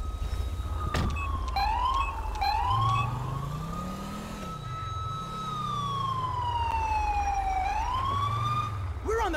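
A wailing ambulance siren in the video game LSPDFR sweeps up and down continuously over an engine rumble, loud and close, with a few short sharp electronic blips near the start.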